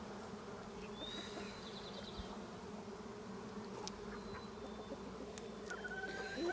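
Honey bees crowd a brood frame of a swarm colony, producing a dense, steady buzzing hum that is close and continuous, with a few individual bees passing by.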